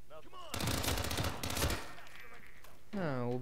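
Automatic weapon fire in the video game Hitman 2 (mission The Last Resort), a loud, dense burst of rapid shots lasting about a second and a half, followed by a shorter burst, with game sounds around it.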